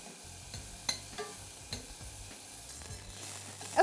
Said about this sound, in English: now my onions are just beginning to caramelize and those aromatics are smelling fabulous